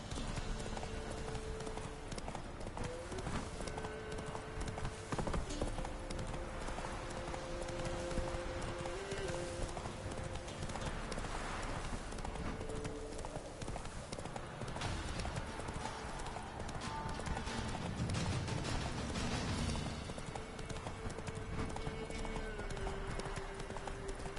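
A horse gallops in a video game, its rapid clip-clop hoofbeats running steady and close throughout, layered over sustained game music tones and light background ambience.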